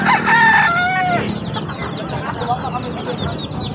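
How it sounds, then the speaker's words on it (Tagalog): A Chinese chicken rooster crows loudly and close at a busy pet market in Grotto, Bulacan, its drawn-out call followed by softer clucking amid market bustle and a faint background voice. "Ano, Chinese chicken?"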